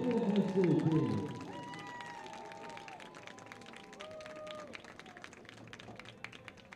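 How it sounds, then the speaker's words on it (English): Applause and clapping from a crowd at a college football game between Northwestern Oklahoma State and another team, a loud burst at first that fades into a lingering, thinner spatter of claps and crowd noise. "How about a nice round of applause for our local high school kids?"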